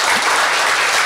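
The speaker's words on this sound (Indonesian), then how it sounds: "sekali lagi tepuk tangan buat Jegok dari Jembrana" A crowd applauds loudly and steadily after a Jegog bamboo ensemble performance from Jembrana, Bali, dense clapping filling the whole moment without pause or voices.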